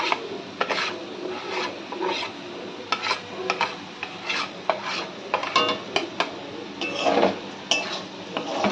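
Banana flower and fried Gobindobhog rice are stirred together in a pan, with repeated rasping scrapes and clinks of a spatula against metal, a faint sizzle beneath, close and continuous, no talk.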